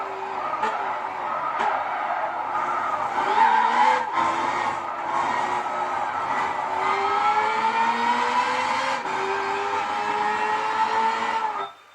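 A race car at Bathurst holds a high, rising engine note with a few gear changes, runs at speed and then brakes hard into a corner before the sound cuts off abruptly.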